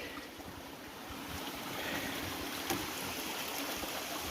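Eagles Creek flows along the Superior Hiking Trail, a steady broad rush of water that swells slightly and continues throughout, close and alone with no talk.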